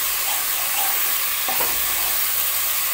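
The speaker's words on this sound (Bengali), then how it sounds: "নেড়ে নিচ্ছি ভালোভাবে, মশলাটা কষানো হচ্ছে" Onion, ginger and garlic spice paste frying for dum aloo, a dense, steady sizzle filling the clip, close and loud, with a faint scrape of stirring partway through.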